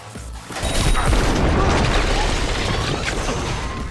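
An EMP grenade detonating in the video game Cyberpunk 2077, a loud sustained rumbling blast with crackling debris that swells after half a second and holds steady to the end.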